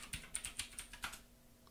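Quick burst of keystrokes on a computer keyboard as a terminal install command is typed on an Ubuntu server, about eight close, crisp clicks in an uneven rhythm ending with a firmer press, alone with no talk.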